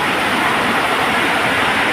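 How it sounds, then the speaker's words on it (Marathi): Dense, steady hiss of heavy rain pouring down, loud and continuous with no breaks, a broad wash of noise close by, at a railway station in Navi Mumbai. "प्रचंड मोठ्या प्रमाणात सध्या पाऊस पडत आहे"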